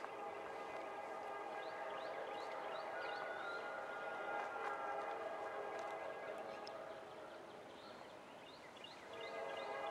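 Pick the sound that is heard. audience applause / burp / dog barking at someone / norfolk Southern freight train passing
norfolk Southern freight train passing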